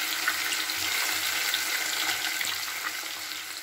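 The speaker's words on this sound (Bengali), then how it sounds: "আমি ভাজতে দিয়ে দিলাম।" Small amudi fish frying in hot oil in a batch, a steady dense sizzle with a soft crackle running continuously at close range, with no voices.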